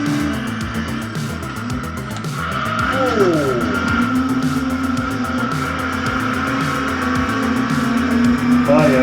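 Race cars in a PS1 racing video game played on a MiSTer bump and accelerate, with droning engines, rising revs and tire squeals over a rhythmic game soundtrack, while a player talks over it.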